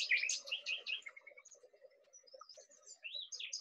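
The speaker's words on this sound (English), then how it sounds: "The sound here offers the chirping of birds." Several small birds chirp and tweet nearby in quick, high bursts that overlap, with softer lower calls underneath. The sound thins briefly in the middle, then bright chirping returns.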